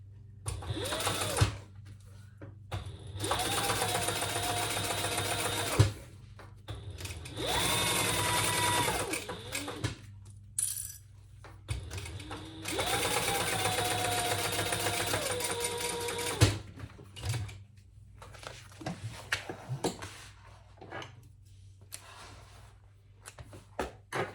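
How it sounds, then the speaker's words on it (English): A sewing machine topstitches a tote bag in three long runs of steady fast needle whirring, with quiet pauses and handling clicks between them. "do 2 rows of top stitching, 2 rows of top stitching"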